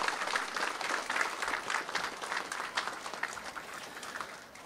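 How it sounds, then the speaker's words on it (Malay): Crowd applause rings out at the annual cadet parade of the Royal Military College, a dense, steady patter of many hands clapping from a distance that gradually tapers off. "Satu tepukan gemuruh buat mereka."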